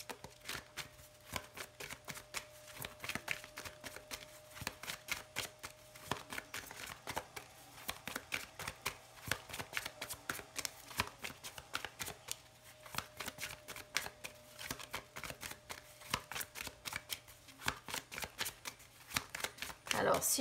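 Oracle cards shuffled by hand for a tarot reading, a continuous rapid riffle of stiff card edges slapping close up, with quiet talking underneath.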